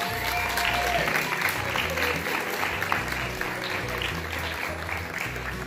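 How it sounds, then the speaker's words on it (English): Applause from the audience at a pageant, a moderate wash of many hands clapping under a steady low hum of background music, with voices faintly present. "So give them a big round of applause."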